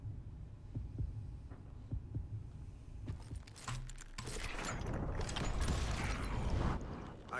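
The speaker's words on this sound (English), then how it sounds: "You can hear the heartbeat." A heartbeat pounds in a tense standoff just before a gunfight duel in the Western shooter Call of Juarez: Gunslinger, the low throbbing pulses repeating steadily beneath a swelling hum of game music and ambience that builds louder toward the end.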